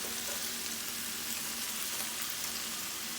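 Shrimp for jambalaya sizzle steadily in a hot pan, a dense, even frying hiss with a faint low hum underneath, continuous and close throughout.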